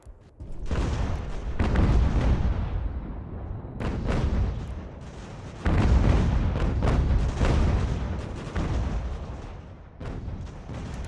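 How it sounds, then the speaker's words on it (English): Mortar artillery fires in the strategy game Ultimate General: American Revolution during the invasion of New York. Repeated deep booms overlap into a loud, rolling rumble that continues throughout, with no voices. "our mortars are slowly breaking them"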